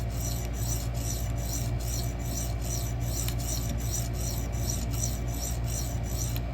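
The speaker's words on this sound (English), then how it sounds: "I'm trying to get that nice even burr going all the way across the edge of the blade." Rhythmic rasping strokes of an 80CrV2 steel knife blade drawn across a sharpening stone, long, even, regularly spaced passes repeating steadily and close by, with no voices.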